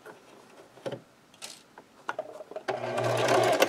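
A sewing machine back stitches a fabric scrub cap in short mechanical bursts, a few brief whirring runs followed by a longer steady stitching run at the end, close and clear.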